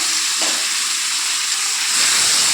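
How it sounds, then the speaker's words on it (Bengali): Marinated desi tyara fish is stir-fried in a hot pan with a dense, close sizzling hiss that runs without a break. "মেখে রাখা মাছ দিয়ে একটু দু মিনিট তো আমি দিয়ে দিয়েছি একটু কষিয়ে নেবো নেড়ে চড়ে"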